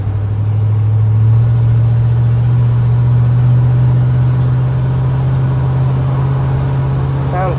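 1985 GMC High Sierra truck engine droning steadily while driving, a loud, close, even low hum held throughout with a faint squeak near the end.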